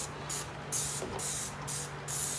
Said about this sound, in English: You hose it off, hosers.